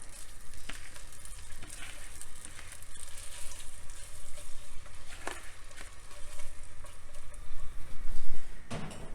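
Drained noodles go into a hot, oiled pan and sizzle loudly, with crackling spatters and stirring scrapes over a steady frying hiss, close up and with no talking.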